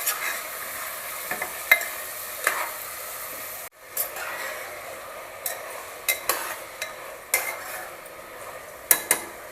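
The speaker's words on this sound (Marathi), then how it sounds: "ते मटण जे आहे ते पहिल्यांदा परतून घेऊया आपण" Mutton stir-fried in oil inside a pressure cooker gives a steady sizzle with repeated sharp scrapes and clinks of a spoon against the metal pot, pausing briefly midway, with no talk.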